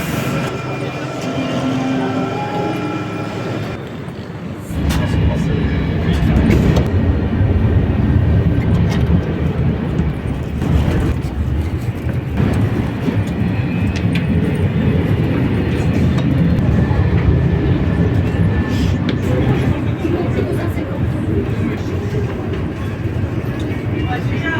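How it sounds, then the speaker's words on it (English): An SNCF TGV inOui double-decker high-speed train, France's fastest, passes with a loud, steady roar and rumble that swells after a quieter opening and holds through to the end. "the fastest train in France,"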